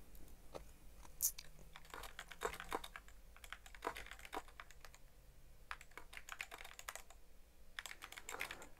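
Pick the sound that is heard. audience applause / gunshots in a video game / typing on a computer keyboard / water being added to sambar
typing on a computer keyboard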